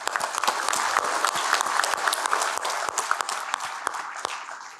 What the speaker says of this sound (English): give maybe a quick round of applause to all the students who entered a poster